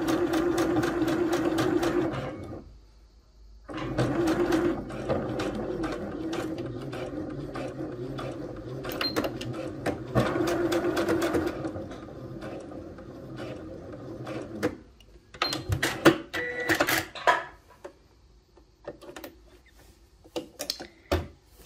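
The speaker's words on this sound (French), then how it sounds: "Et je couds jusqu'au bout." A sewing machine stitches a T-shirt seam in bursts of rapid whirring, stopping briefly in between and then running again, close up, ending with quieter handling clicks.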